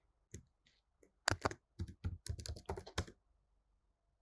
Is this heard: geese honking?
no